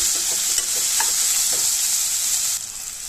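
Steady loud sizzling of tomatoes and onions frying in a pan with salt, with occasional scraping stirs, continuous and close, easing slightly near the end.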